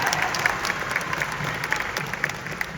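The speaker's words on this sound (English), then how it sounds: "A round of applause for us, ladies" Audience applause for the hosts at a live comedy or podcast taping. Moderate, steady clapping runs throughout with a few sharper claps and a faint high whine.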